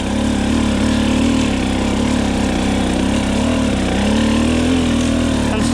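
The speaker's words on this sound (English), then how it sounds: "I'm not dabbing, just letting the bike just chug." A dirt bike engine lugging uphill with no clutch, a low, steady chugging drone that holds at close range without letup.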